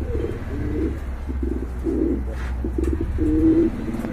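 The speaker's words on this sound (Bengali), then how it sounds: "চমৎকার এক জোড়া কবুতর, দেখার মতো ভাই, দেখার মতো" A pair of pigeons for sale coos in soft, low, rolling phrases, repeated close by over steady background hum, with no talking.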